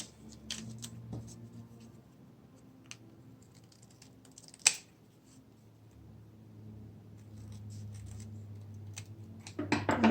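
Scissors snip through folded coffee filter paper in a quiet room, with sparse, irregular crisp cuts and small rustles spread across the stretch, plus a sharper snip near the middle and a louder flurry at the end.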